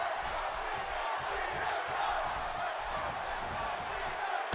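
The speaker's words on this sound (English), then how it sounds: "And listen to this crowd." A virtual arena crowd roars in WWE 2K16 during a Kevin Owens wrestling match, a thick continuous wash of cheering and shouting voices, steady and loud with no single voice standing out.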